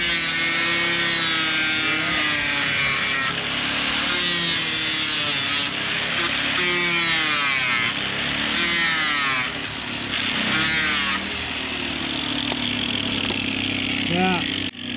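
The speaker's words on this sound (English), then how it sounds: "So now when you grind deeper, you see it becomes one color again." A power grinder bites into the fiberglass hull of a hurricane-damaged catamaran, a loud continuous whine that rises and falls as pressure changes, with someone talking over it.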